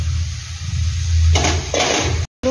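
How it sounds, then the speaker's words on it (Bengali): Potatoes tipped into a pan of frying spice paste, a couple of bursts of hissing sizzle with light clatter over a low background, then a sudden cut to silence. "মশলা প্রায় কষানো হয়ে গেছে, এবার দিয়ে দেবো এই আলুগুলো।"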